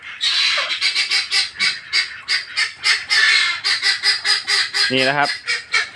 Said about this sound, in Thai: เสียงเป็ดร้องก่อนจะเลี้ยงครับ